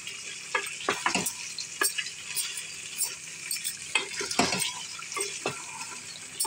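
Goat meat is sautéed and stirred in a pan, giving soft, irregular scraping strokes over a faint sizzle, fairly quiet and close.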